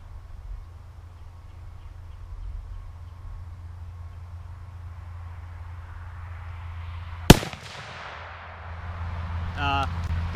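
A single sharp, loud rifle shot from a Remington 770 in .30-06 being sighted in outdoors, coming after a stretch of low background rumble and followed by a fading echo and faint bird calls.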